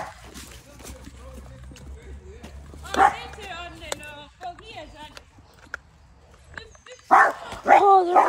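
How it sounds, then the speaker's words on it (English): Labrador dogs bark in the woods, a few loud nearby barks and yips around the middle and end, with people talking in between. "Oh, they're beautiful dogs."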